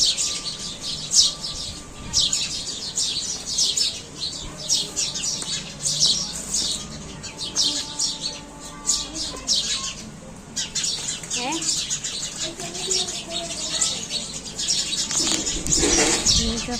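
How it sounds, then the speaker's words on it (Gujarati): Sparrows chirp busily nearby in rapid, overlapping bursts that run throughout, with occasional other bird calls and faint background noise beneath. "મસ્ત મજાના ચકલા બોલી રહ્યા છે"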